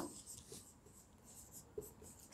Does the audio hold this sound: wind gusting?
no